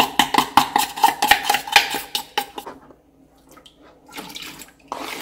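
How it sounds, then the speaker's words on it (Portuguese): Homemade liquid laundry soap being stirred with powdered soap dissolved in water: a rapid run of clinking, scraping utensil strikes against a container, then a quieter lull with faint sloshing and a few soft knocks. "Agora tem que ficar mexendo para dissolver muito bem, para não separar"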